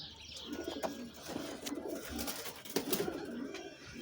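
Homing pigeons cooing softly in a loft, low repeated throaty coos with a few faint chirps and rustles over a steady background hum, fairly quiet and close.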